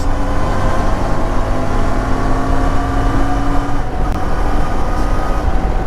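A CFMOTO 450MT adventure motorcycle engine runs loud and close, holding a steady, droning rev with no talk over it.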